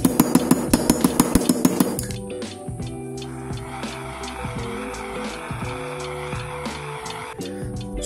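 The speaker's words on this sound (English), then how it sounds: "So please bear in mind when you're hammering, you try to keep the hammer on the side closest to the edge of the block" Sterling silver sheet is hammered on a bending block, about a dozen quick, evenly spaced metallic strikes at close range, followed by softer tool and handling sounds under a low hum.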